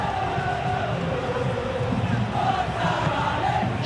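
Crowd noise from a football video game stadium, a steady dense roar of fans with swelling cheers, continuous and fairly loud throughout.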